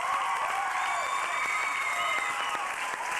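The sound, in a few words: audience applause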